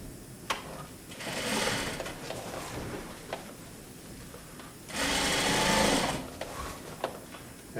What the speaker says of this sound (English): I'm going to start sewing about 2 inches behind over here, okay, into my corner